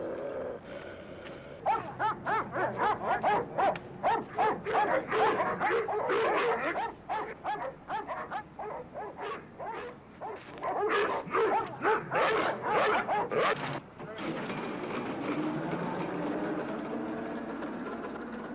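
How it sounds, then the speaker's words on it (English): Trained guard dogs at a secured site bark loudly and rapidly for the whole stretch, a dense run of overlapping barks with a few yips, close and continuous. "I've never heard them bark in the daytime before."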